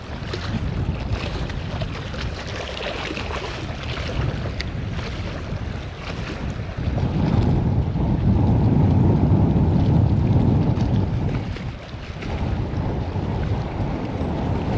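Wind blows steadily across a bass fishing boat on the water, roaring against the microphone and swelling into a stronger gust midway before easing back, with no one talking.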